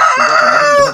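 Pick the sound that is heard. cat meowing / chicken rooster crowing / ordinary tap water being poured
chicken rooster crowing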